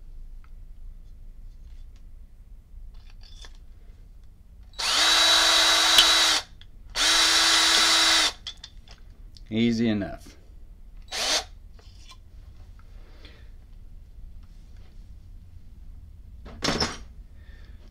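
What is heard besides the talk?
power drill knocking out the base of a Ronson Adonis lighter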